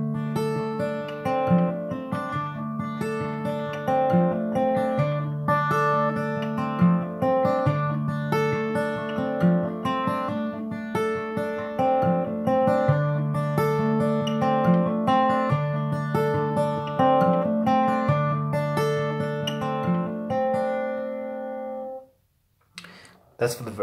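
Fingerpicked acoustic guitar plays the verse of a song in a flowing, ringing picking pattern, close and clear, with notes sustaining until it stops near the end.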